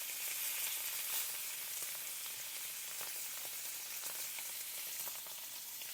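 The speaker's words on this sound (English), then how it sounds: "now it's time to get these steaks in here to get them nice and seared" Sous vide top sirloin steaks searing in a hot pan, a steady loud broadband sizzle holding evenly throughout with no voices over it.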